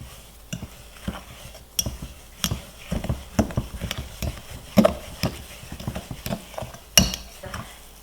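Chocolate chip cookie dough mixed by hand with a utensil in a bowl, making close, soft, irregular gritty scrapes and taps with a sandy texture and no voices.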